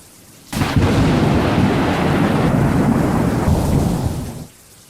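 A heavy thunderclap breaks suddenly and loud, rolling into a sustained rumble with rain for about four seconds before dropping away.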